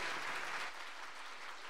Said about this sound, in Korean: 여러분 사운드팀에게 다시 한번 큰 박수 부탁드립니다